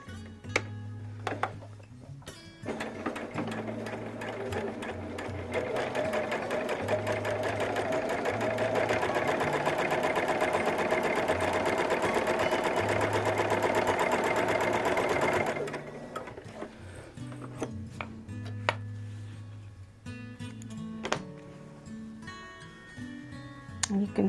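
A sewing machine stitches quilt fabric pieces for flying geese blocks, a loud steady mechanical whirr running for about ten seconds, framed by shorter start-and-stop bursts, clicks and handling noise.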